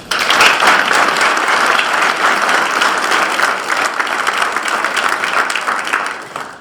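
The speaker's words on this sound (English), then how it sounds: "For the service members who orchestrated this unique joint ceremony, a huge round of applause, please." Loud, dense applause from a large crowd at a military change of command ceremony, sustained evenly throughout before tapering off at the end.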